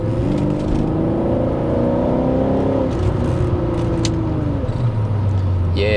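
A Porsche 928 V8 revs up from inside the car while driving, a loud, steady engine drone with rising tones that builds toward the top end. Faint background clicks and whirs sit under the drone.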